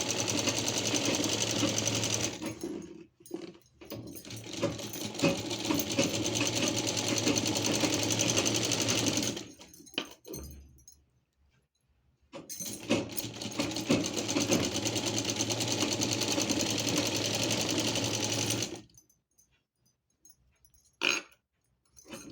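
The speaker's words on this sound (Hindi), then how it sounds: "तो एक स्ट्रेट और एक डायगोनल पार्ट मिलाते हुए हम पहले इसमें स्टिचिंग करेंगे।" A sewing machine stitches straight and diagonal panels of a chundri print gown together, running in two long steady bursts with a short pause between and quiet after.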